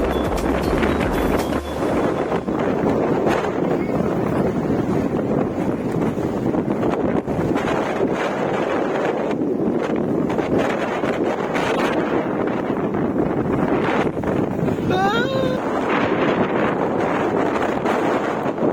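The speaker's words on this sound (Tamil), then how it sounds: "இதுக்கு மேலே வந்த உடனே காற்று செம்மையாக அடிச்சுதுங்க." Strong wind roars steadily against the microphone at Malampuzha Dam, a constant loud buffeting rush with no pauses throughout.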